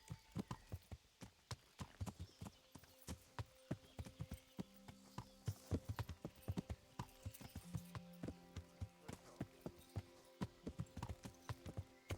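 Horse hooves sound in Kingdom Come: Deliverance as a sharp, regular clip-clop that repeats at a walking-to-trotting pace. The hoofbeats are close and distinct over quiet game ambience, with faint tonal sounds in the background.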